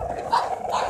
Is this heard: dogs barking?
yes